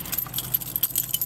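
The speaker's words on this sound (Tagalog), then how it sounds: "pero maingay talaga yung susi nila" A bunch of keys jangles in quick, bright metallic rattles that come and go through the moment, close and fairly loud, with no talking.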